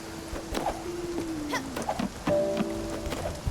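Rain falls in a farming video game, a soft, steady patter of drops mixed with scattered taps and sustained tonal game sounds, moderately quiet throughout.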